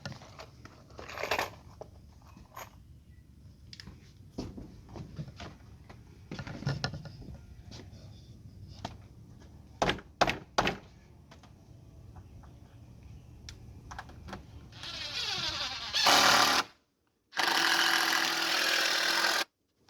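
A power driver sinks screws into replacement porch deck boards, with scattered knocks and handling sounds early on, then two loud, sustained whirring bursts near the end, close by.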